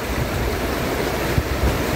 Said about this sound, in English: Listen to that water.